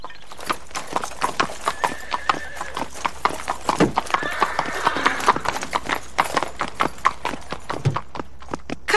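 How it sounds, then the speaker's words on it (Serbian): A horse walks with steady, crisp hoof clip-clops in an animated series, the even rhythmic beats running throughout, joined by a brief whinny and soft voices in the background. "Kakav divan konj!"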